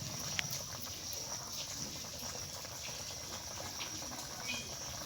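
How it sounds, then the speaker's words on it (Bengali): Curry water for a rohu fish and eggplant dish bubbles in a pot, a soft, continuous simmering fizz with faint pops, close and quiet. "তরকারির জলটা ফুটে উঠেছে দেখুন।"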